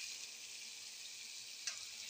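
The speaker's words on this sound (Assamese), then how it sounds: "ভাজিয়ে আছোঁ পানীত মাংস, ব্ৰইলাৰ ভাজিয়ে আছোঁ।" Broiler chicken meat for a chicken curry sizzles steadily in a pan, giving a continuous close frying hiss with no talk and one small clink near the end.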